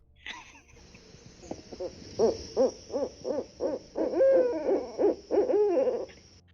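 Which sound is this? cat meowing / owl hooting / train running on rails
owl hooting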